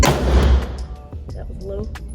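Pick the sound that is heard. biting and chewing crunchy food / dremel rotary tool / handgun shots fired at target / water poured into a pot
handgun shots fired at target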